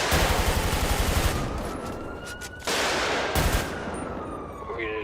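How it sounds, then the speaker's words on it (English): Gunfire in a police roleplay video game: a dense, loud burst of rapid shots, followed by a couple of sharper cracks, with a siren wailing faintly underneath and tailing off alone. "Were you just shooting everybody or what?"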